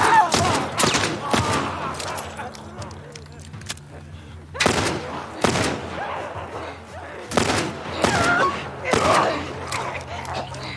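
Gunfire in The Last of Us Remake on Grounded difficulty: sharp, loud shots in a series of separate bursts, spaced unevenly, with quieter game ambience between them.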